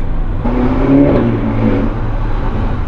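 A Ferrari Portofino engine pulls hard under acceleration, its rising note climbing and stepping through gear changes, heard steadily and fairly loud from inside the car with no one talking.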